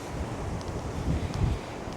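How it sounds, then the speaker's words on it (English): Gusty coastal wind near the sea in Dorset roars steadily across the microphone, a rough, rumbling rush with no voices. "but it's windy"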